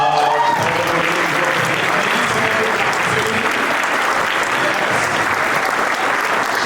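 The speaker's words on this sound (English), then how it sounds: "Can we give a round of applause to Nick, please?" A speech audience in Emporia breaks into loud, sustained applause, dense clapping filling the room at an even level from start to finish with no voice over it.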